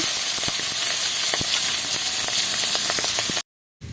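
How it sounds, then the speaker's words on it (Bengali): Pangas fish fries in hot oil in a kadai with a loud, steady sizzle and scattered sharp crackles and pops, then cuts off abruptly near the end. "তাহলে মাছ কটা ভেজে নিচ্ছি কড়াইতে আমি মাছগুলো দিয়ে দিচ্ছি ভেজে নেব"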